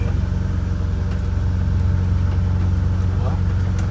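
A vintage Scenicruiser bus engine labours up a steep slope under steady throttle, a loud, close, droning low rumble with a constant throb, heard from inside with people talking over it.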